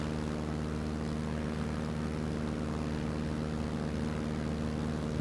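Propeller airplane in a flight video game climbing after takeoff, a steady, continuous engine and prop drone that holds even throughout with no talk.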